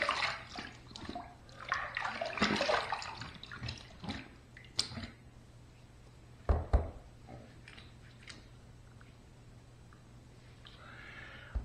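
A razor is rinsed under a running tap during a wet shave, with splashing and flowing water that swells and fades, a few knocks, and a low steady hum underneath.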